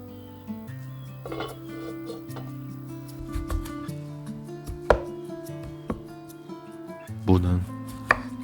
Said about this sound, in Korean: 무는 갈비 크기로 토막을 낸 뒤 모서리를 둥글게 돌려줘야 부서지지 않고 깔끔하지요.